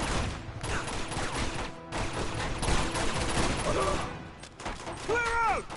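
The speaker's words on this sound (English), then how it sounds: "Oh no, it's not a sniper, it's a pistol." Pistol gunfire in the video game Uncharted 2, a dense run of sharp shots through a loud, busy game battle with music, while someone talks over it.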